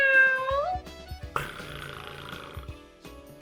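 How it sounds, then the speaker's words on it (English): A cat meowing, a short rising and falling cry at the start, followed by faint scattered rustles and thumps in a quiet room. "the last one is a cat. What sound does a cat make?"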